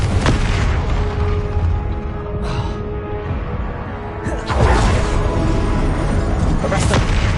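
Confringo fire spell in Hogwarts Legacy exploding with repeated booming blasts amid dense game-battle noise, loud and close, with a fresh burst near the end.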